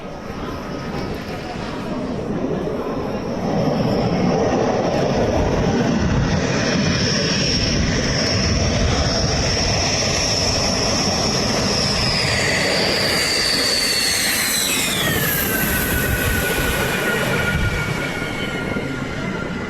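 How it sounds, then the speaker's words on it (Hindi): A Rafale fighter jet lands on a runway with a loud, sustained roar and a high engine whine that falls in pitch as it passes, continuous for about twenty seconds. "हवाई पट्टी पर सेकंडों के अंदर किस तरह से राफेल लैंड कर रहा है"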